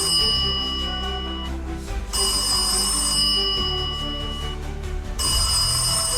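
Telephone ringing with a steady, repeating electronic trill for an incoming caller on a food call-in show, loud and continuous, with no talk over it.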